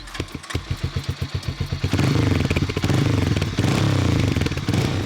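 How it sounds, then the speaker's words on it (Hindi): A Harley-Davidson X440 single-cylinder motorcycle idles with distinct, evenly spaced thumps, then the throttle opens into a loud, rough, sustained roar that rises and holds, recorded up close. "अब जो सुनना चाहते हो वो सुनो, वो है इस बाइक की साउंड।"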